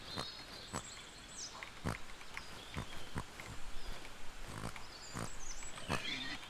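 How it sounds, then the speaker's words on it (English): Pigs in the Guild Wars video game, a prize-winning hog among them, give faint, distant grunts and squeals. Short sharp clicks and thuds, probably footsteps, are scattered over a quiet background. "You had to, like, chase the pigs in,"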